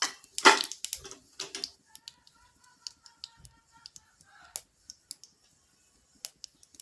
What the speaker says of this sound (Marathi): आणि आता तेल गरम झालेलं आहे तर मोहरी टाकून घ्यायची।